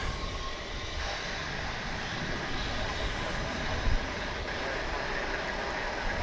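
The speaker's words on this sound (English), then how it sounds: "as we watch a One World livery American Airlines flight coming in" An American Airlines jet in oneworld livery comes in to land at Dallas Fort Worth, its engines a broad steady roar with a faint whine, heard from nearby with a brief bump midway.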